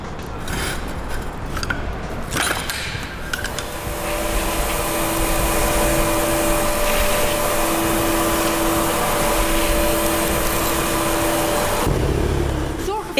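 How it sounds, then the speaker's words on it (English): A vacuum cleaner runs on a construction site cleaning up silica dust, a steady loud whining motor drone that starts after a few seconds and stops near the end, with a voice heard early on. "Ensure that cleaning occurs regularly with the right products, like this vacuum cleaner, and combine this with good ventilation."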